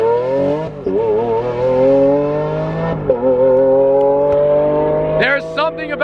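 A BMW F10 M5 and a Supra revving hard while racing, the engines rising and falling in a loud sustained roar with a sharp higher whine near the end.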